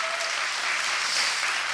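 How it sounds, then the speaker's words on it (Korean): An audience at a lecture-style talk show claps steadily, dense and continuous applause filling the whole moment without pause. "일단 박수 한번 주세요."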